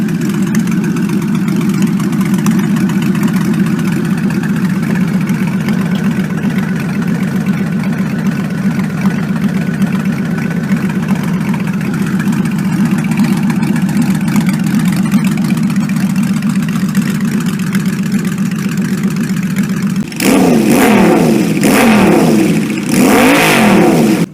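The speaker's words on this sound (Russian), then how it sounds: "Flat Six Custom – круизер с шестицилиндровым оппозитным двигателем" A Honda Valkyrie 1500 flat-six cruiser motorcycle idles with a steady, smooth low rumble for a long stretch, then revs sharply in a few quick throttle blips near the end, close and loud.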